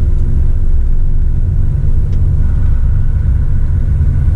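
A heavily loaded truck holds back on the steep Serra do São Luiz do Purunã descent with engine braking, a loud continuous low rumble and drone that stays steady throughout with no speech.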